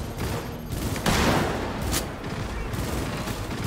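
Steady bursts of gunfire fill a Cyberpunk 2077 firefight, with a louder cluster of shots near the start and a dense crackle that keeps going throughout.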